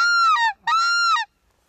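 A hunter's call imitating white-fronted geese, used to draw startled, shot-at birds back: two drawn-out, loud honking calls of about half a second each, close and clear, with a short gap between them.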